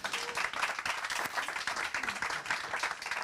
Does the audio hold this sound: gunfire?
no